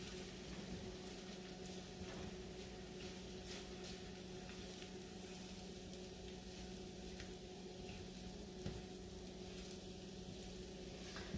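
Spam fried rice with eggs sizzles continuously in a pan while being stirred, a steady frying hiss with light scraping strokes throughout, fairly quiet and without talking.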